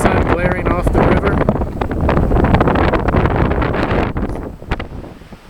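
Strong gusty wind on a cliff top along the Appalachian Trail at Raven Rocks, West Virginia, buffeting the microphone in loud rumbling blasts that ease toward the end, with a voice faintly audible beneath.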